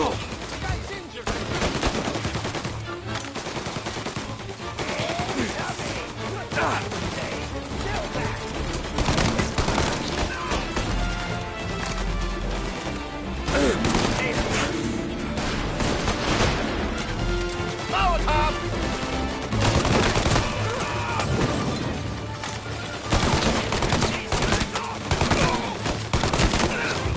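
Dense gunfire from the video game Mafia: rapid bursts, single shots and crashing impacts pile up continuously and loudly, with occasional voices in the mix.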